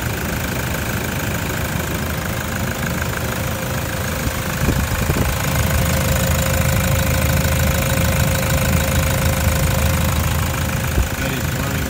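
A car engine idles steadily and evenly after starting, a continuous close mechanical running sound with a light knocking texture and no cracked-piston fault, with no talk over it.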